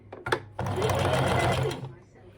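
A sewing machine runs a quarter-inch seam on a stuffed toy with a back tack, starting after a couple of brief clicks, then whirring loud and steady for over a second before slowing to a stop.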